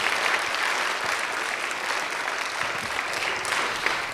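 An audience applauds steadily, a dense wash of clapping with a few scattered cheers rising over it, sustained without a break.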